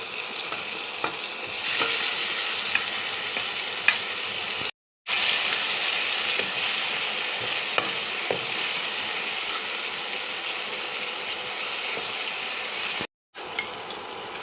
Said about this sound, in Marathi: तेलामध्ये परतून घ्यायचा.